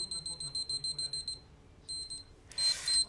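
Small electronic alarm-like beeps chirp in quick repeated bursts during an Instagram live session indoors. After a pause, a second, shorter burst follows, and the beeping returns with a hiss near the end, all at moderate volume.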